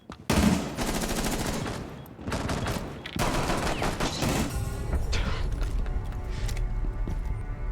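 Rapid bursts of gunfire crackle through an unranked online shooter match, dense and loud from start to finish with brief dips between volleys and a few metallic mechanical clicks.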